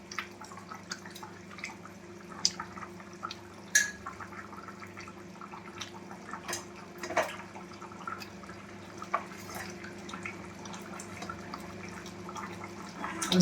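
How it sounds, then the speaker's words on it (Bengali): Pieces of catla fish drop one by one into a simmering bottle gourd curry, giving faint plops and soft liquid clicks over a quiet bubbling pot. "এবারে কি করবো, আমি মাছগুলো একে একে দিয়ে দেবো"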